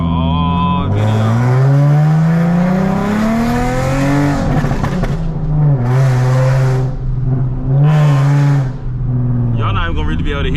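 Straight-piped Nissan 370z exhaust revving hard and loud, with repeated rising engine pulls broken by short gaps, close to the car.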